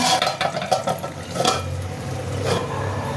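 Dhokar dalna cooking with potatoes in a pot: a lid is set on top with a couple of close metallic clinks over a soft background hiss.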